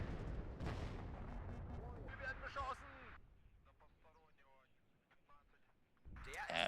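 Tank cannon fire from T-72M tanks shooting at PT-76s in the strategy game WARNO: a burst of heavy booming shots up front, then a quieter spell of distant crackling fire before another loud blast, with a voice talking over the start.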